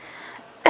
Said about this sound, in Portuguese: Deixa eu ver a tosse.